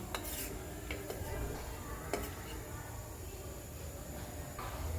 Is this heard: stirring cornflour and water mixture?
yes